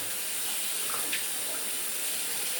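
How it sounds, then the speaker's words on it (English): Hands are washed under a running kitchen tap while a chicken and dumplings soup is cooked, giving a steady close hiss of flowing water with faint splashes throughout. "Wash my hands."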